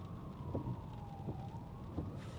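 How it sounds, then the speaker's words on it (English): An ambulance siren wails faintly from the road ahead, a steady sweeping tone heard from inside a moving car over low road rumble. "So there's an ambulance in front of us."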